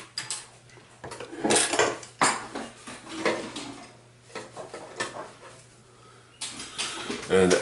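A stainless steel measuring cup of melted pewter is handled for casting chess pieces at home, giving clinks and scrapes of metal against metal in bursts under speech.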